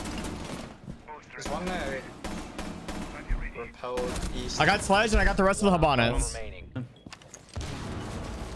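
Video game gunfire cracks repeatedly under near-constant excited talking, with sharp shots and bursts scattered throughout.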